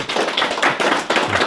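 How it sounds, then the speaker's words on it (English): Dense clapping from a crowd, steady and close, filling the whole moment without any talking. "So please give them a round of applause."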